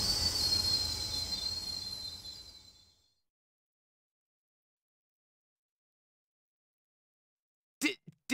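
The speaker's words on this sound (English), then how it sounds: "There's a train up ahead!" A train approaching in the Persona 3 Portable video game rumbles and screeches with high wheel squeal for about three seconds, then cuts to silence broken by two short sharp sounds at the end.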